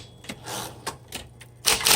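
A 1960s Smith Corona Coronet electric typewriter types in close, uneven bursts of sharp key strikes, with a louder clattering flurry near the end.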